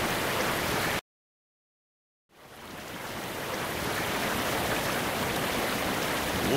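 A waterfall pours down in a steady, broad roar, cutting to silence for about a second before swelling back to a constant rushing wash with no voices over it.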